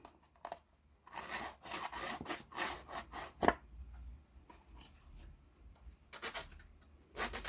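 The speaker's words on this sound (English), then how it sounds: "I usually use my Tim Holtz distresser and distress the edges." Paper edges being roughed up with a Tim Holtz distresser tool, heard as quiet, close bursts of dry scraping and rubbing strokes separated by brief pauses.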